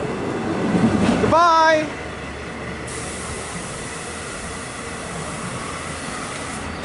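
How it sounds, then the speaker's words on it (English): A double-decker commuter train on the Hempstead line in New York passes with a steady, broad rushing rumble that fills the whole stretch, while a voice briefly calls out near the start. "A double-decker on the Hempstead line."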